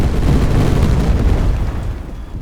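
Dropped MK20 bombs exploding in Tiny Combat Arena, a loud, sustained low rumbling boom that slowly fades, with no voices.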